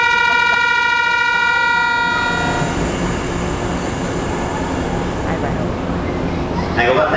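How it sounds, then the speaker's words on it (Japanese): A Yokosuka Line out-of-service train pulls away from Ofuna Station platform 5 loudly, its whining motor tones fading into a broad rolling rumble of wheels and cars, with voices talking over it. "5番線から回送列車が発車いたします。"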